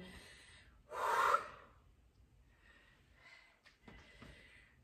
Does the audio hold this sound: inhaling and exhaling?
yes